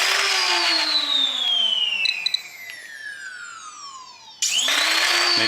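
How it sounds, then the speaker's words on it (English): Foam dart blaster flywheels whir up to a steady high-pitched spin when the trigger is pulled, pitch gradually falling as they wind down, then a second sharp spin-up near the end; close and mechanical with no talk. "you should pull your trigger and your flywheel should spin"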